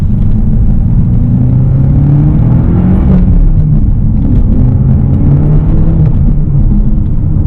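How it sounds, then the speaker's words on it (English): A 2015 BMW M6 Competition Coupe with a 6-speed manual gearbox drives along, its engine a loud, steady low rumble with rising and falling pitch as revs shift, heard from inside the car with no talk. "Right now we're taking the 2015 BMW M6 Competition Coupe out, and as you can see, it is a 6-speed manual."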